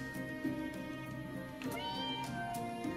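In the video game Catmaze, a cat meows several times over a continuous bed of game music, with short plaintive calls coming at a moderate distance and sitting just above the steady musical backing.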